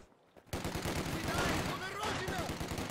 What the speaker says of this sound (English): But it seems like his double machine gun is kind of shutting down the double machine gun from Lyconious.